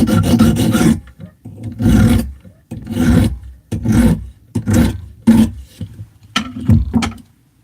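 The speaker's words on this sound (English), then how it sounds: "can you be quieter with that sharpening?" Sharpening on a wooden picnic table gives loud, close rasping strokes in uneven bursts with short pauses between them, the table adding a resonant, roaring body to each scrape.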